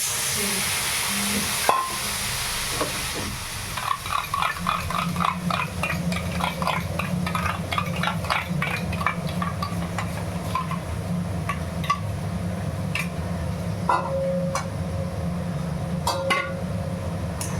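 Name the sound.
sautéing vegetarian curry with curd in pan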